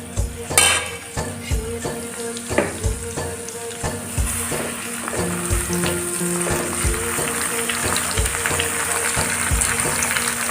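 Whole pieces of mustard greens (lai saag) go into a hot pan with fried meat and oil, setting off a loud sizzle that settles into a steady hiss, punctuated by clinks and scrapes of a spatula against the pan.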